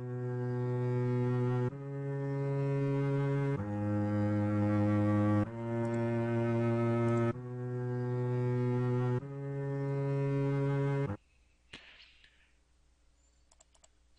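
Sustained, harmonic-rich synth notes pass through a Dynamic Tube saturation effect in Ableton Live, gaining a gritty, distorted edge. Five long, loud tones play one after another, then the sound cuts to near silence with a few faint ticks.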